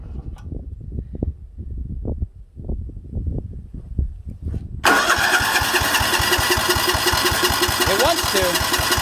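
An old 1970s lawn mower engine cranks in a rapid chugging rhythm, then catches and runs at a loud, steady mechanical roar, with a voice talking over the running engine.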